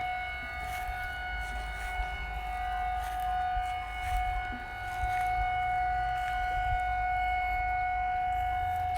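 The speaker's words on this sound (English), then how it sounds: "right now they're testing the sirens for the 1st of September" A civil defense siren test for the commemoration in Wielun, Poland, wailing steadily on one sustained tone from a distance, alone with no talk.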